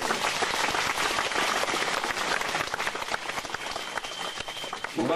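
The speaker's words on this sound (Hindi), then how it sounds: "मैं चाहूंगा कि ताली बजाकर थोड़े पहलवान का जोश भरो" A crowd at an outdoor wrestling match on a college ground claps continuously and densely to cheer on the wrestlers, loud and close throughout.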